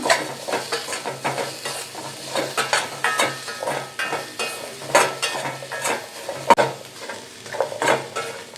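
Amla and green chillies are stirred in a pan over a low flame, with a soft continuous sizzle broken by frequent scraping and clinking of a spoon against the metal.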